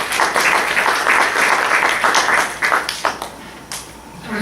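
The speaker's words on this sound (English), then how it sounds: "Let's give him a round of applause and then ask him something." Audience at a Cloud Expo 2013 conference keynote applauds after a presentation, a dense, even burst of many hands clapping that thins out and tapers in the final seconds.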